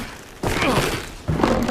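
Two sudden thudding bursts of gunfire from a realistic next-generation console shooter set in a dark zone, each onset loud and then sustained with rumbling echo, with a quiet gap between them.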